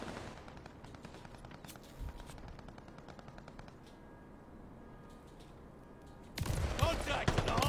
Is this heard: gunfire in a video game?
yes